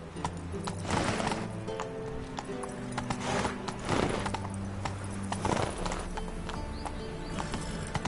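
Roach the horse gallops in The Witcher 3 video game, a rhythmic clip-clop of hooves with occasional whinnies, steady and close throughout.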